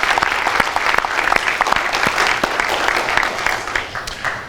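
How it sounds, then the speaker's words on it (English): Audience applause at a university keynote on student leadership, a dense, sustained clapping from a sizeable crowd at steady loudness, tapering slightly at the end. "So I'll start by a round of applause for yourselves and also for your experience at Jumpstart."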